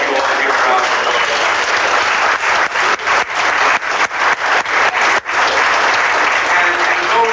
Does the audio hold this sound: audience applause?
yes